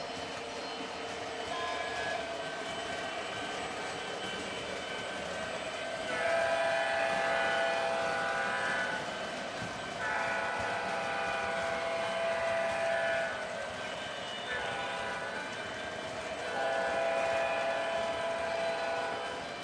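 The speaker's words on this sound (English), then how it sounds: "once one train goes through, the other train's starting to go through the other side" Model trains run through a crossing on a layout, a continuous rolling rumble with mechanical clatter, joined by several recurring whistle or horn tones that rise and fade in turn, close and moderately loud.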